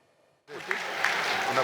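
After a moment of near silence, applause breaks out from parliament members and swells into steady clapping, with some voices mixed in.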